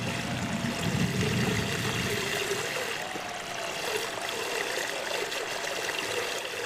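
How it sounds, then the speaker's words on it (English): A pump aerates water in a 5 gallon bucket used as a kayak live well, giving a steady close trickling, bubbling gush that continues without pause and has no voices over it. "it's pumping water from the bottom and it's pushing it through the pump system and aerating it"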